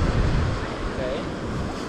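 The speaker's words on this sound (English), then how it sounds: "But look at those crashing waves in those rocks in the ocean." Atlantic Ocean waves crash against rocks along a rocky shore, heard as a steady, loud broadband roar and wash with wind buffeting the microphone throughout.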